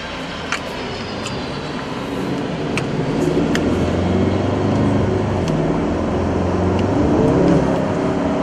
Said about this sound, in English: So sport mode will want to get the revs up.